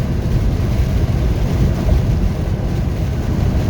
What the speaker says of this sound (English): Just super strong winds.